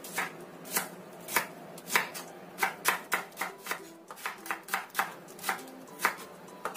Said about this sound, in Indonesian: Aku pakai 2 butir bawang merah, ini kita iris tipis saja.